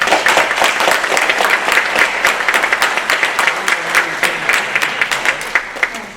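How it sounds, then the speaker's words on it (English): An audience at a middle school band recital gives sustained applause, a dense, fairly loud wash of many hands clapping that carries steadily for several seconds with no talking over it. "give them a round of applause."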